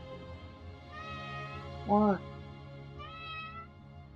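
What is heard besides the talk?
cat meowing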